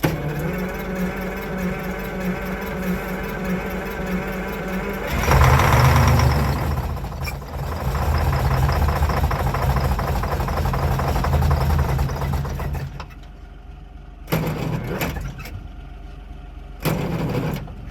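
A truck engine cranking and struggling to start, rough uneven turning over that surges louder midway, then drops out, followed by short bursts of renewed cranking near the end.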